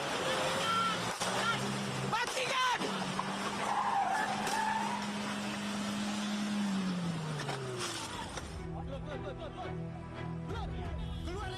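A car's tires squeal in a long skid during a police chase after a vehicle carrying narcotics, the screech holding steady for several seconds before cutting off, with a news presenter speaking over it.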